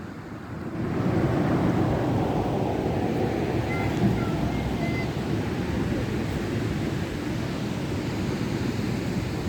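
Roaring derecho storm winds rush in after a brief quieter moment, a loud, continuous broadband howl like a jet engine that holds steady near the microphone.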